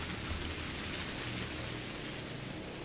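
Steady rain in the video game Pathologic Classic HD, a dense, even hiss of falling water that holds at the same level throughout, with no voices and no distinct drops or thunder.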